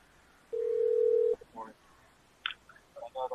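A telephone line tone sounds for almost a second as a call is answered, then short bursts of voice and brief beeps follow on the line.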